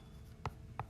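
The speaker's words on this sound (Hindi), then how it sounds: "इसको क्लियर करने के लिए दोबारा एक सेंटेंस में लिखती हूँ, जैसे कि है ये कमला" A pen writes a sentence during a Hindi grammar lesson, giving two brief, faint scratching strokes in a quiet room.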